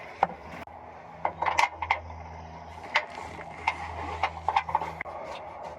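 Metallic ratcheting and clinking of tools while exhaust bolts go in on a 1995 Miata, with irregular bursts of clicks and taps close by and no talking.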